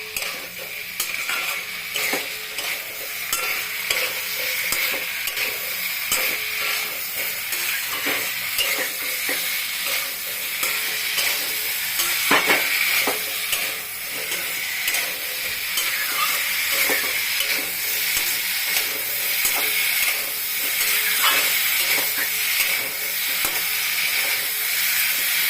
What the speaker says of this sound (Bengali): এখন আমি ফুলকপিটা দিয়ে একটু নাড়াচাড়া করব, করে তারপরে জল দেবো